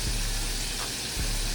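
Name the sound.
chicken wings frying in oil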